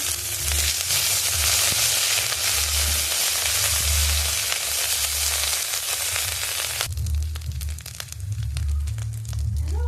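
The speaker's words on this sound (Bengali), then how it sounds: "ফোড়নের জন্য দিয়েছি, এখানে আমি দিয়েছি জিরে আর শুকনো লঙ্কা আর তেজপাতা" Cumin seeds, dry red chillies and bay leaf hiss loudly in hot oil for a Bengali tempering, a close, dense sizzle that drops sharply in intensity partway through, with faint stirring afterward.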